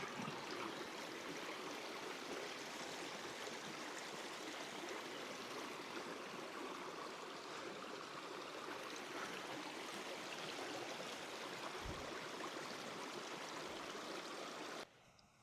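Waterfall on the Oconto River at Snow Falls roars as a steady, dense rush of flowing water, constant and fairly close, with no voices, cutting off abruptly at the end.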